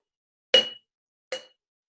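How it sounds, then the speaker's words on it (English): An empty glass jar tapped twice, each strike a sharp, short clink with a high ringing tone that fades quickly, the second hit softer, separated by silence. "there's the empty jar right here"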